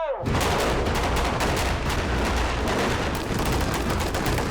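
Loud, rapid bursts of gunfire crackle continuously after a sharp onset, dense and close, with booming explosive effects mixed in, on a film set.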